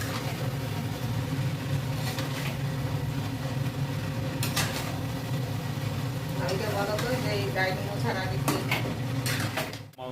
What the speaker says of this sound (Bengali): এবারে ভালো করে যতক্ষণ না মাংসের গা থেকে তেল ছাড়ছে ততক্ষণ মাংসটা কষতে হবে।